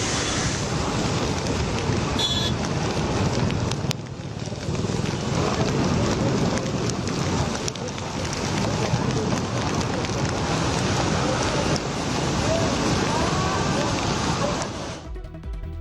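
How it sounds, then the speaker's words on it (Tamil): Heavy monsoon rain pours over flooded Mumbai in Maharashtra, a dense, steady, close roar of water and wind that holds unbroken for the whole stretch before cutting off at the end. "மகாராஷ்டிராவில் பெய்து வரும் கனமழை காரணமாக மும்பை மாநகரம் வெள்ளத்தில் தத்தளிக்கிறது."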